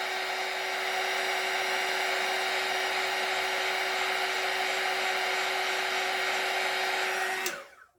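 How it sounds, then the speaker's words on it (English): A heat gun used for crafting blows hot air with a steady, close whirring hiss and faint tonal hum, running evenly for about seven seconds before it cuts off abruptly. "magic heat gun, heat tool they are, but I tend to call it my magic gun."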